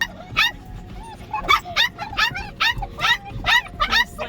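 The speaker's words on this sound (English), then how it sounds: "There's like a lot of dogs in here." Several dogs in a room yip, whimper and give short barks in a rapid, uneven series of close, high-pitched cries.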